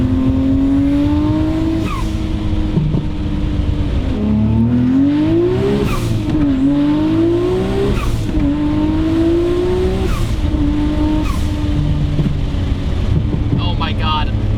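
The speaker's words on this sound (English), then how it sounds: "this one sounds like the Fast and Furious Skyline" A 650-horsepower Nissan Skyline R34 GT-R driving hard: a loud engine rising and falling through repeated gear changes, close and continuous, with excited talk partly under the roar.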